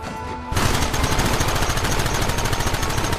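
Rapid, sustained gunfire from several weapons erupts in a Red Dead Redemption shootout, a dense fast rattle of shots that keeps going without pause and drowns out any talk.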